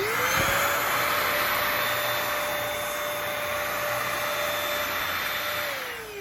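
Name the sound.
Bissell 3-in-1 corded stick vacuum running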